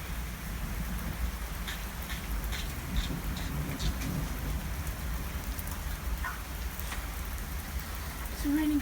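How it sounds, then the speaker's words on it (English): Heavy rain pours down in a dense, steady hiss with scattered drop impacts, a hailstorm outdoors, continuous and fairly close. "It's raining so hard right now."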